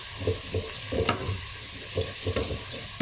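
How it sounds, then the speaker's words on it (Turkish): Onions frying in a pan as tomato paste is stirred in, a steady sizzle under repeated scraping stirs that come in short, even bursts, close and moderately loud with no talking. "Şimdi soğanımız kavruldu. Şöyle salçamızı da ilave ediyorum."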